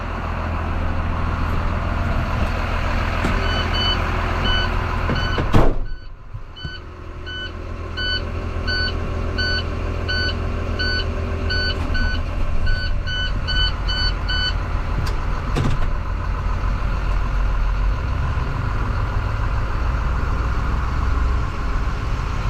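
2014 International Terrastar plow truck pulls in with a steady engine rumble, then a regular series of reversing beeps repeats for several seconds at moderate distance.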